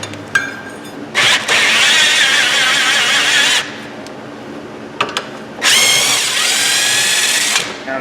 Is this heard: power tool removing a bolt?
yes